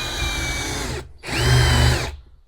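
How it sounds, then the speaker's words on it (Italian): A Parkside countersink bit spins in a cordless drill, countersinking wood in two short whirring bursts separated by a brief pause, the second bite lower and heavier as it cuts, close and loud. "con il solo peso dell'avvitatore praticamente già ha svasato"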